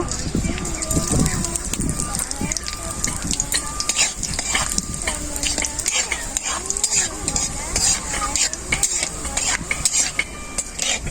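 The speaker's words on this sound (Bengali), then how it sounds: "প্রথমে কড়াই সাদা জিরে দিয়ে দেব।" Cumin seeds sizzle and crackle in hot mustard oil in a wok, loud and steady throughout, with a utensil stirring and scraping against the metal and a voice talking over it.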